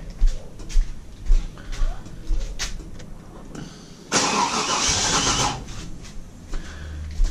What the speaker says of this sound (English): As you can hear that clatter going on, that is a whole bunch of gear drives for the camshaft